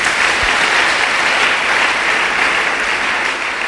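A church congregation applauding and cheering during a sermon, a loud, dense, continuous wash of clapping from a large crowd that fills the whole moment.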